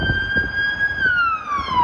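A Toronto police car siren sounds close and loud on a North York street, a held tone sliding gradually downward over the low hum of traffic.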